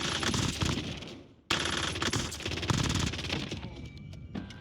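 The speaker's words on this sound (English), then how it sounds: "Here's the Ladra in the firing range." Ladra submachine gun from a first-person shooter emptying long automatic bursts on a game firing range, loud and sustained, with one brief pause near 1.5 seconds before the rapid fire resumes and trails off into tail echoes.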